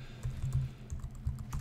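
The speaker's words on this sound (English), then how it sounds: "I just type in Apple touch icon." Quick, light clicks of fingers typing on a computer keyboard, a short irregular burst of keystrokes heard close and alone.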